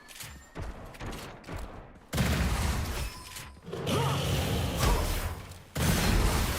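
A heavy gun fires in the shooter game Gunfire Reborn: rapid bursts of loud blasts and mechanical clatter come in several close, sustained volleys with short gaps between them.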